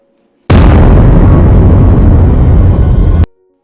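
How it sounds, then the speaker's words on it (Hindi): A loud, sustained explosion effect of reactive metal dropped into water, a sudden blast that roars steadily for nearly three seconds before cutting off abruptly. "लेकिन अगर उन्हीं को आप लोग वाटर में गिराते हो तो वो विस्फोट भी हो सकता है।"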